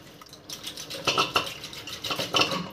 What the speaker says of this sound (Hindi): दाल को अच्छे से मैश करके लेती हूँ,